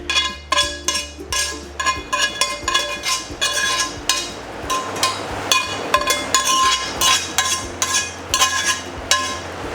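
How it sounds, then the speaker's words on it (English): Chopped ingredients for a home-cooked Chinese dish are tipped and scraped into a serving dish, making a busy run of close, bright clinks and clatters against the crockery. "I'm going to just tip those into a dish"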